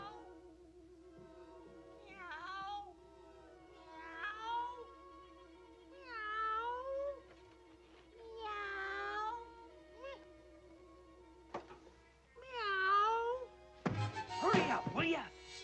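A cat named Pansy meows repeatedly outside on a night, several drawn-out, wavering cries at moderate distance over a steady low hum, ending in a louder rough burst.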